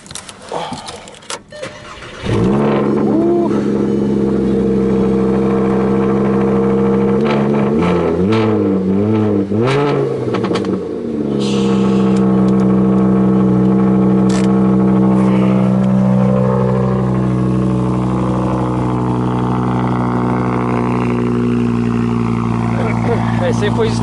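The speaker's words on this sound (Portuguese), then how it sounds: "esse aí foi o escapamento que os caras colocaram nele, cara. Que alto." A Volkswagen engine cranks and fires up, then revs loudly through a booming aftermarket exhaust, settling into a loud, rough idle close by.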